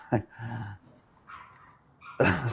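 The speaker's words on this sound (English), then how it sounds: "that's the little yapping dog" A little dog yaps in short sharp bursts at the start and again at the end, fairly close, with a gap of quieter room noise between them while a person talks indoors.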